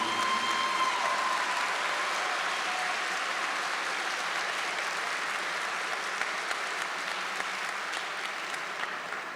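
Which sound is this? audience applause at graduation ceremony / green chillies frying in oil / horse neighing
audience applause at graduation ceremony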